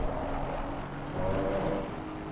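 An Aston Martin race car engine held at full throttle on a flat-out stretch of the Nürburgring Nordschleife, a steady droning roar with a slight rise in pitch, heard close and continuous from start to finish.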